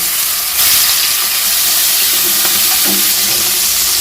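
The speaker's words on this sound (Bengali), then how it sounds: "এবারে আমি চিংড়ি মাছগুলো ভেজে নেব" Salted, turmeric-coated shrimp fry in hot oil, giving a loud, steady sizzle that carries throughout, with a few faint clinks of stirring.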